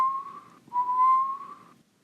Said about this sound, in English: I'm going to find the whistle that I like the best